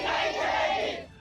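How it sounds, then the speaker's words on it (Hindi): A protesting crowd gathered outside a police station, shouting slogans as a dense, continuous roar of many voices at close range for about a second before fading. "थाने के बाहर जुटी भीड़ ने वहां जमकर नारेबाजी की।"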